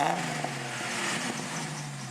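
A car engine idles and is given a little gas, a steady low tonal hum with a slight rise in pitch as the throttle opens, close and moderately loud.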